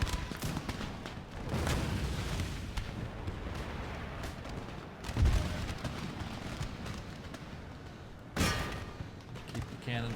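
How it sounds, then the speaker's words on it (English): Cannon fire in an Empire Total War land battle (Darthmod) makes repeated booming artillery shots and rumbling volleys over a steady battlefield din, with someone talking over it. "Cannon fire going."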